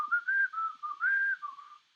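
A person whistles a lilting melody of sustained, gliding notes in two phrases, fairly close and clear, fading out near the end with no talk.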